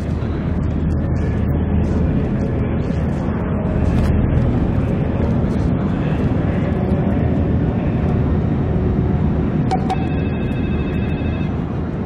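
Steady, loud aircraft engine drone inside the Splinter Cell Blacklist video game, continuous and unbroken with a brief electronic tone near the end.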